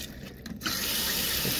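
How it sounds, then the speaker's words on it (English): Water runs steadily from a faucet inside a Grand Design Momentum 21G travel trailer while its water pump is primed, starting after a short lull and holding as a continuous, fairly close rush. "I'll prime the water pump before I go here"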